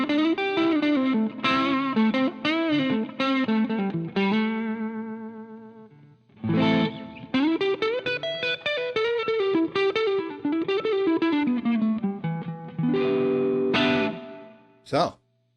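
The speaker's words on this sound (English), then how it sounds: "Some distortion." A Stratocaster electric guitar played through a distortion effect, sustained overdriven chords and riffs ringing out loud with a short pause midway and a final sharp stab, no voice over it.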